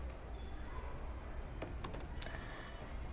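Quiet keyboard typing while writing React code: a short cluster of soft, irregular key clicks in the middle, set against faint background hiss, with no one talking.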